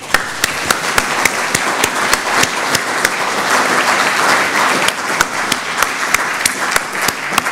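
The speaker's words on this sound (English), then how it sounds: "So please join me in a big round of applause for our panelists." Audience applause for the panelists at the close of an evening event held by the Macedonian Society of Great Britain. Dense, steady clapping from many hands runs throughout, with sharp individual claps standing out, and no voices.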